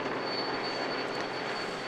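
A helicopter hovers over a Tour de France cycling stage in Brittany, its steady broadband engine and rotor roar filling the whole moment at constant loudness with a faint high whine on top.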